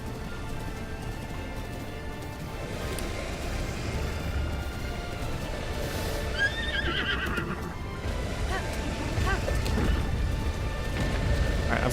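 A horse in the video game Breath of the Wild gives a clear whinny around the middle, over a steady bed of ambient game sound with soft hoof clops and no talking.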